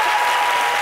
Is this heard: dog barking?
no